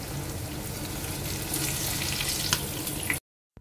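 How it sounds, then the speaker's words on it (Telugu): Masala-coated fish pieces fry in a pan with a dense, continuous sizzle and a few brief pops. The sound is close and steady, then cuts off abruptly near the end. "చూసారుగా ఇలా ఫిష్ ఫ్రై అయితే రెడీ అయిపోయింది"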